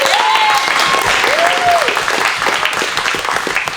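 An audience at an awards night for movies claps in a sustained, dense burst of applause, loud and close, with a few faint voices and whoops mixed in as it slowly tapers.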